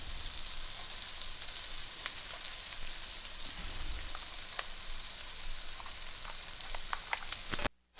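Chopped onions fry in a hot pan for a Mexican rice dish, a steady close sizzle with scattered crackles and pops throughout, ending abruptly.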